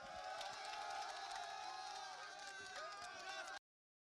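Barracks workers cheer and acclaim Patrice Talon in Benin: a dense, loud burst of crowd shouting and whoops that holds steady for about three and a half seconds, then cuts off abruptly.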